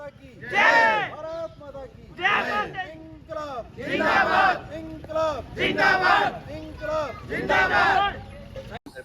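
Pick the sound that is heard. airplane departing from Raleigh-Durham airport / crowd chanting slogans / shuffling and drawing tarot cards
crowd chanting slogans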